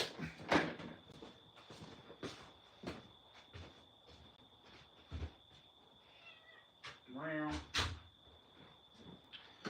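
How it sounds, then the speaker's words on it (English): A door opening to let a cat in, with scattered knocks, a creak and a meow-like cry among them, while a steady high tone runs in the background. "I gotta go let a cat in real quick"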